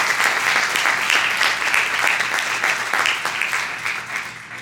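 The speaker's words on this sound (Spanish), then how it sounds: "a quien yo te pido un aplauso en esta mañana" A church congregation applauds during a Sunday morning service, a steady, dense wash of many hands clapping close and loud, continuing throughout without anyone speaking over it.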